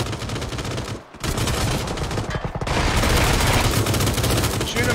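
Rapid automatic gunfire in a battleground shooter game, loud dense bursts that keep going nearly nonstop, with a short gap, and excited players talking over the shooting.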